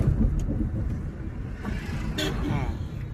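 Car engine rumbling low and steady while the driver shifts down a gear, with muffled voices speaking over it inside the cabin.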